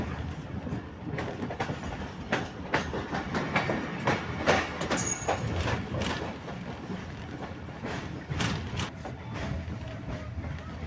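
A passenger train pulls into Sargodha railway station in Pakistan, its wheels beating a loud, rhythmic clickety-clack over the rail joints, with clanks of the carriages, a brief high squeal and faint background voices.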